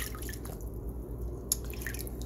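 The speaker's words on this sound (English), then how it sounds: "So I'm just rinsing it off." Freshly harvested homegrown broccoli is rinsed under running water, a close, continuous splash and patter with drips over a couple of seconds.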